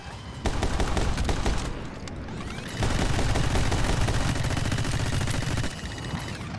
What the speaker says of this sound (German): Mal warten, bis er zu Ende geschossen hat.